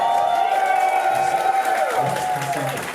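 A live crowd at WrestleMania 35 in New York cheers and applauds steadily, a dense wash of clapping and voices, with some nearby chatter and a sustained tone running through it.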